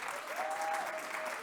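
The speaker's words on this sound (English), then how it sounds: "applause to the Mzansi Youth Choir" An audience gives a brief, steady burst of applause for a youth choir at a corporate technology event, with a sustained tone ringing faintly through the clapping.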